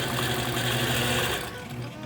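A long arm quilting machine stitches fabric, giving a loud, steady mechanical whir with a rapid, even needle rhythm throughout, easing slightly near the end, with no talking.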